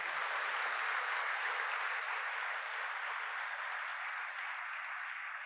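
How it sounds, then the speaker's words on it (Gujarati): Audience applause at a live motivational speech gathering, dense and sustained clapping from a large crowd, steady and fairly distant throughout with no talking. "એ લોકો માટે જોરદાર તાળીઓ પાડી દઈએ."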